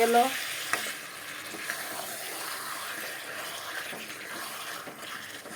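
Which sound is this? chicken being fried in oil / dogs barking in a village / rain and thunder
chicken being fried in oil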